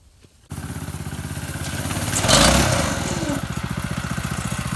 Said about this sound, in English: My brother's over here turning around the go-kart.